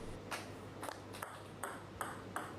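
Table tennis paddle striking the ball on side spin serves, heard as six sharp, faint, evenly spaced pings over a quiet background with no talking.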